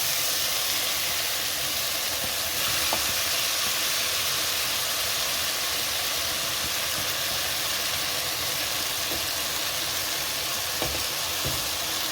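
Bulgur and chicken simmering together in a pot, giving a steady, continuous bubbling sizzle with faint hiss, broken by a few soft clinks, and no voices.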